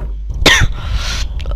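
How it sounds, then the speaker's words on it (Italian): One sharp cough rings out close to the mic against a constant low hum, followed by a longer airy breath or throat-clearing rasp during a horror game session. "non è una tosse da interrompere il video"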